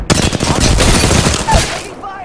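Rapid automatic gunfire in the video game Apex Legends, a loud dense burst of shots lasting about two seconds before cutting off, with faint voices under it.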